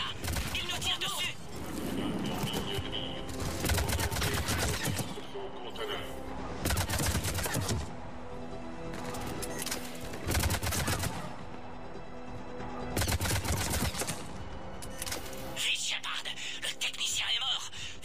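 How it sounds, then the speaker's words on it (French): Sci-fi gunfire from the video game Mass Effect 3 rattles in repeated bursts against a background of game music and effects, while voices speak French in the game. "L'ennemi toujours là. Il nous tire dessus."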